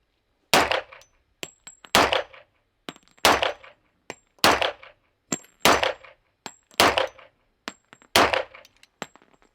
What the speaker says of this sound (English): the Gringo is going to shoot the 1911, the Austrian going to shoot the Glock